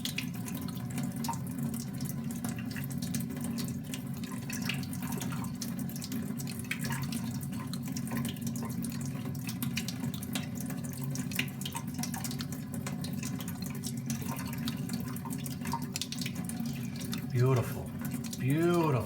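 Tap water runs steadily into a sink while a German steel straight razor is honed nearby, a continuous close rushing stream that grows slightly louder near the end.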